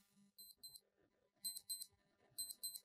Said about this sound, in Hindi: अलार्म बजेगा